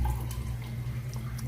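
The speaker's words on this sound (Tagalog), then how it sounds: "So, lagyan mo siya ng tubig." Tap water runs in a steady stream into a cooking pot for adobo of chicken liver and gizzards, a soft constant splashing with no talk over it.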